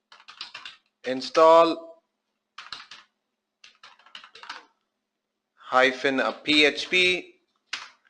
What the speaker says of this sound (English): For that, I'll type puppet module